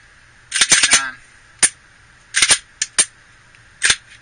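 Sharp clicks from a dry-fired pistol's trigger reset, compared alongside Glock and other handguns, sound in short clusters separated by quiet gaps, close and distinct against a faint background hum.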